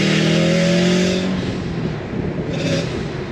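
Subaru Legacy GT wagon pulling hard in second gear, a loud close engine note rising in pitch through the revs, then easing into a rough, steady exhaust roar.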